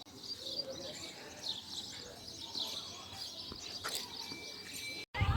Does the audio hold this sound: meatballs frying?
no